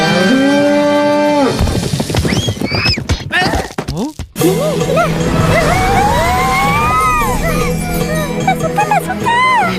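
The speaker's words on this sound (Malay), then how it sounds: "Sapi." A cow in an Upin & Ipin cartoon lets out several loud, drawn-out moos with rising and falling pitch, close and prominent, with a brief jingle and other cartoon noise between calls.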